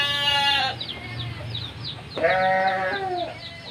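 Two loud goat bleats from close by in a goat pen, separated by a brief pause, with faint farmyard background noise.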